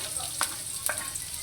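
Onion sautéing in oil in a pan, a soft steady sizzle with two short scraping stir sounds, faint and close, no talking.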